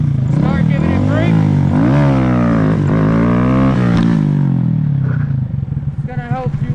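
Honda Grom motorcycle engine revving in repeated rising bursts as a rider prepares a wheelie, close and loud, with a voice talking over it before the engine settles lower near the end.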